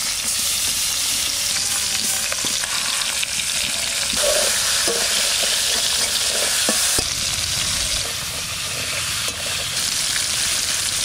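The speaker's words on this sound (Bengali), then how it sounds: "কড়াই চাপাই দিচ্ছি, মাছটা ভাজা করে নেব" Fish seasoned with salt and turmeric fries in a wok, giving a loud, steady sizzle and spatter with stirring scrapes, continuous and close, with no talking.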